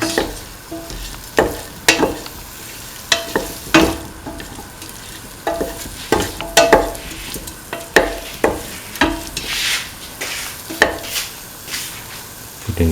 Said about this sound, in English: Thoroughly mix.